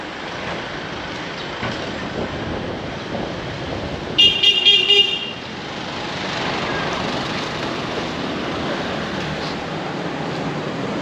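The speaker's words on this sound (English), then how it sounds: "A lot more traffic now than there used to be" Busy street traffic in Songkhla town, Thailand, a steady roadside wash of passing vehicles with a short burst of horn honking partway through.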